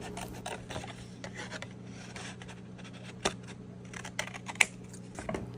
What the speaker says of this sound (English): we're going to put some of that thick paper into the tube.